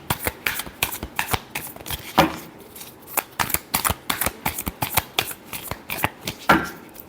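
Tarot cards shuffled by hand in a quick run of crisp, riffling flicks and slaps, close and fairly loud, with a couple of heavier card-bridge bursts and no talking.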